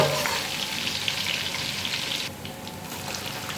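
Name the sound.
frying crushed garlic in a pan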